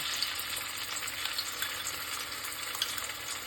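Ginger-garlic paste sizzles and fries steadily in half a cup of fully heated mustard oil, a dense, continuous crackle close up with no talking.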